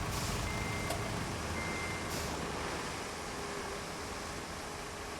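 A truck in the Roadcraft video game backs up while dumping sand, its reversing beeps sounding over a steady, dense engine rumble that holds throughout without talk.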